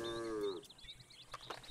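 A cow in the video game Red Dead Redemption II lets out a single close, drawn-out moo, followed by quiet rustling ambience of the game world.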